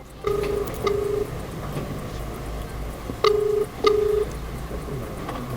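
Several short electronic telephone keypad tones in separate bursts, steady and clear, over a faint background hum with no talking.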